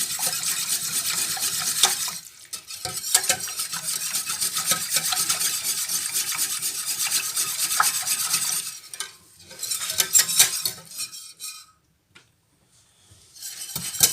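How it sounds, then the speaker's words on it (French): A whisk stirs Mornay sauce as it cooks in a pan, a steady near scraping and swishing that pauses briefly a couple of times, with a soft simmering sizzle beneath. "Je suis toujours en pleine cuisson, donc je n'ai pas encore la grosse ébullition. Ça commence à venir tout doucement, donc il faut toujours tourner."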